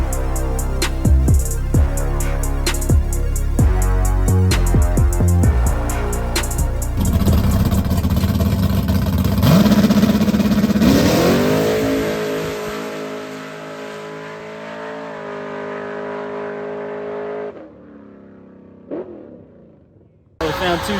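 A Ford-powered small-tire Camaro drag car idles with a choppy, lopey rumble, then revs hard and roars through a sustained, loud wide-open run before the engine note drops away near the end, while voices talk over it.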